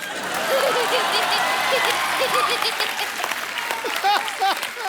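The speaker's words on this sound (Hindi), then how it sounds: "ठोको ताली ठोको." A studio audience at The Kapil Sharma Show bursts into loud, sustained applause mixed with laughter, while voices talk over the clapping.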